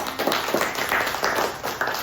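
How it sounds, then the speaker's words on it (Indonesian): Students in a classroom give a classmate a round of applause, a short burst of scattered clapping, fairly soft and a little distant, under steady room noise. "Beri tepuk tangan untuk temannya."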